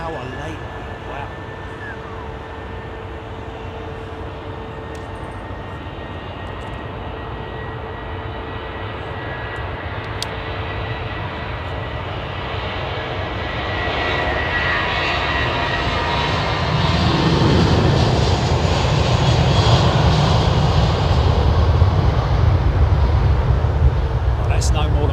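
Airbus A380 airliner engines at London Heathrow Airport, a broad steady roar that swells louder over the latter half as the aircraft nears or powers up, heard from a distance, with no speech.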